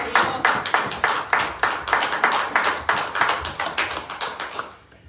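A church congregation claps together in a rhythmic, evenly spaced beat during a sermon, loud and close, slowing and fading toward the end.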